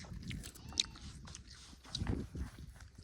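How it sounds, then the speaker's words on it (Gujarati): Someone bites and chews white sugarcane up close, with crunchy bites and wet mastication in uneven bursts against an outdoor background. "હાલો શેરડી ખાઈ નાખી"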